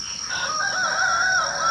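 Roosters crowing at midnight at a dry spring, a long drawn-out crow rising and sustained over steady hiss and night ambience, moderately distant.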